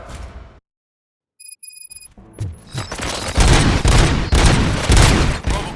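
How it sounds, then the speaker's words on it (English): Rapid gunfire erupts in the Robocop: Rogue City video game, loud dense bursts of shots and booms after a brief silence and some electronic tones, building to sustained heavy fire near the listener. "Gunshots? What's going on?"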